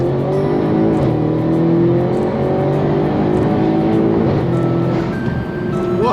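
An Audi's engine pulls hard under acceleration, a loud sustained roar with steadily rising harmonics throughout and no break in the sound.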